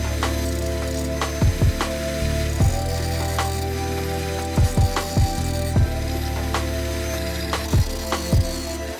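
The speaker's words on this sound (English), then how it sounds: "I switched to a grinding wheel to grind down the remaining nubs." Grinding wheel working down leftover nubs on a carbon fiber floor pan for an E92 M3, heard as a steady close whine broken by repeated short rasping bursts as the wheel bites the carbon.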